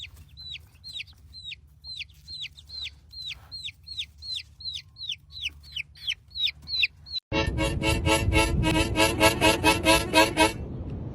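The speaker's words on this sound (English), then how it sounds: "That is a chicken." A chicken gives a quick run of repeated clucks at an even rhythm, close and clear, followed by a louder, denser burst of squawking.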